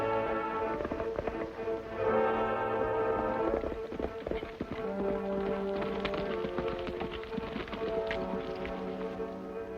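Horses gallop with a steady, dense clip-clop of hooves on ground, continuous and moderately loud throughout, mixed with a busy background.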